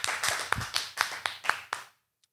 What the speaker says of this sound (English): Y'all give her a hand, man.